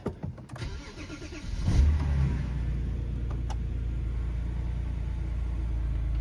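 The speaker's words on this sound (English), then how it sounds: "I'm gonna go ahead and start it up right now" A BMW engine cranks and catches after a short starter whir, then settles into a steady, loud, close idle rumble that runs unbroken to the end, with no talking.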